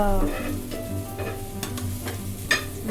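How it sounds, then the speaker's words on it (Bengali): An egg frying in a pan in a home kitchen gives a steady, close sizzle with a few stirring or scraping clicks, and a sharper clatter near the end, with no talking. "ডিম ভাজা"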